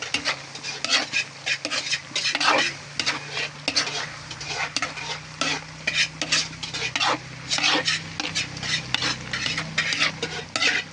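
Bitter gourd stir-fried with smoked fish and chili in a pan, a loud scraping, clattering stir over a steady sizzle, with repeated strokes of the utensil against the metal.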